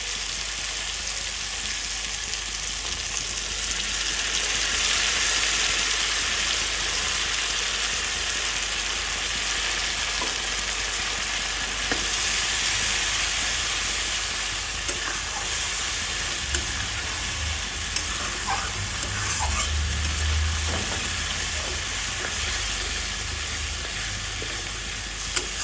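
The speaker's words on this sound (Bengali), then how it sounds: "আমি একটু ভালোভাবে কষিয়ে নিই। দেখো মশলা কিন্তু আস্তে আস্তে করে তেল ছাড়ছে" Spice paste sautéing in oil with cauliflower, potato and tomato in a pan for a vegetarian curry with bori, a steady close sizzle with occasional stirring scrapes, no talking.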